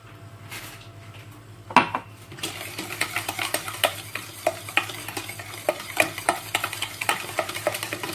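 Chocolate cake batter being mixed with oil in a bowl, a steady close rhythm of utensil scrapes and taps against the bowl after a brief louder knock, with no talk.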